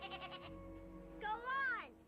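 A goat bleats in a prairie farm setting, a wavering nasal bleat rising near the end of a two-second stretch, close by and faint, with a person's voice heard around it.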